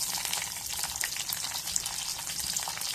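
Green chilies frying in hot oil with mustard seeds and curry leaves, a steady close sizzle and crackle with small pops throughout, no talk.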